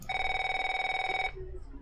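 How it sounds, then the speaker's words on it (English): Cell phone ringing in the video game Neofeud, a rapid electronic trilling ring held steady for over a second before cutting off, followed by faint low speech. "Cell phones ringing?"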